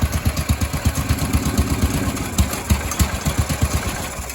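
The single-cylinder engine of a 1976 Sears ST12 garden tractor with a suspected fuel-starved carburetor runs close and loud, with a rough, uneven chugging idle that stumbles and surges.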